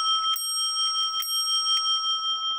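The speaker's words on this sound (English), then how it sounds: "But that bell sounds good." Bell of a WUBA Warmink Dutch clock under repair, struck several times at a quick, uneven pace, with bright metallic rings sustaining close and loud between hits.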